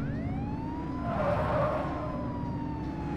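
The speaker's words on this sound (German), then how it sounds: "Licht und Sirene. Geht schon." A police car siren wails steadily over the rumble of an engine in the video game The Precinct, heard continuously and moderately loud while the car drives.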